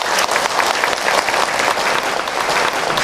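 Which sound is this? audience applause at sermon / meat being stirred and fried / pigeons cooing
audience applause at sermon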